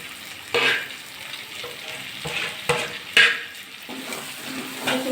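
Prawns frying with pointed gourd, potato and spices in a pan, a steady sizzle broken by several sharp scrapes and clanks as a spatula stirs the mixture, close and moderately loud.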